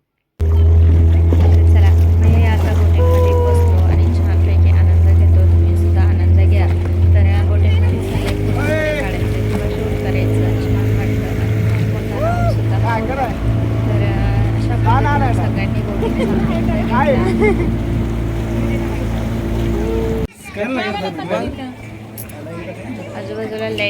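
A boat ride on water, with a loud, steady motor drone throughout and water wash around the hull, as people talk and cheer over it, the engine tone shifting midway and dropping near the end.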